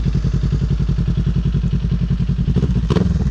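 A 2017 Kawasaki Ninja 300 engine idles close by with a steady, even pulsing throb that holds throughout, followed by a brief clatter near the end.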